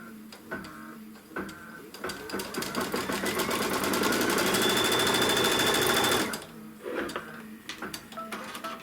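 A sewing machine stitches a seam joining peach fabric on a Kimberbell quilt. Short stop-start runs build into a long, steady, loud whir lasting several seconds, then give way to more brief bursts and clicks.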